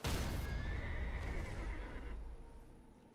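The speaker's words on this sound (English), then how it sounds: "That's the horse death noise." A horse's death cry sounds in a video game, a loud, close, strained whinny that holds for about two seconds and then fades gradually, with no talk over it.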